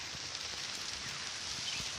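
Heavy rain pours as a steady, dense hiss of falling water, continuous and fairly faint, with no talking.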